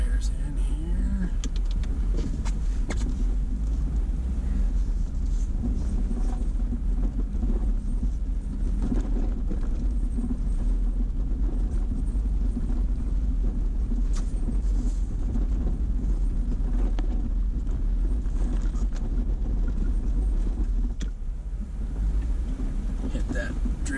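Jeep Wrangler JK driving through a deep snow drift in Colorado: a steady, heavy low engine and drivetrain rumble with constant wind and cabin noise throughout, and people talking over it.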